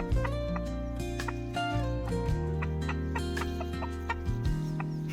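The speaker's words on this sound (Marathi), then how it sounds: "हा जागा लीडर आहे मोठा कोंबडा" Several chickens cluck and call in short bursts over a steady low rumble, with a few sharper crowing notes from a large rooster standing out near the start.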